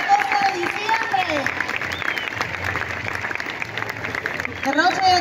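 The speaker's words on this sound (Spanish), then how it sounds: "fuerte aplauso para el Centro Escolar 14 de diciembre" Audience applause for a school marching band at the Surf City Band Fest 2022, a steady wash of clapping lasting several seconds, with a voice speaking over the start and end.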